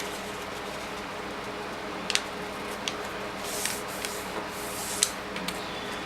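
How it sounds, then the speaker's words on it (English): Origami paper folded and creased close up for an origami flapping bird, with soft continuous rustling and a few sharp crinkles and taps as the paper is pressed flat. "just do another top to bottom fold, or right to left fold, as I'm doing now"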